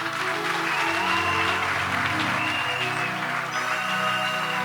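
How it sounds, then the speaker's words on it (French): An audience at a church children's nativity skit claps for the performer playing the angel, steady applause over a sustained background of music and crowd noise. "Est-ce qu'on peut applaudir pour l'ange?"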